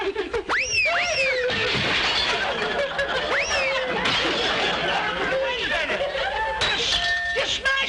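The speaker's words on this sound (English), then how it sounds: "You're smashing everything." Objects are smashed and broken in a continuous loud clamor of crashing, clinking and shattering, and excited voices and chatter are mixed in throughout.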